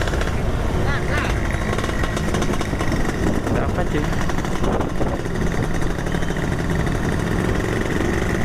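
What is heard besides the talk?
Suzuki Satria motorcycle engine running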